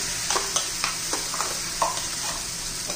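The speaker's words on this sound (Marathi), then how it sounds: "हिरवी मिरची, कढीपत्ता, कोथिंबीर आणि लसूण, आलं हे छान असं आता परतून घेऊया" Green chili, curry leaves, coriander, garlic and ginger paste sauté in a hot pan with a constant close sizzle, while a spoon scrapes and stirs in short regular strokes.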